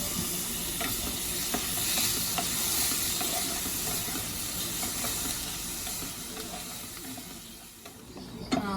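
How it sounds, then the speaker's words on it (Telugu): Prawns frying in a pan (bandi) for egg prawn pulusu sizzle steadily and loudly, with scraping stirs and small clinks coming through throughout. "ముందు ఫ్రాన్స్ బాండీలో వేసుకుని కొద్దిగా ఫ్రై చేసుకున్నాం."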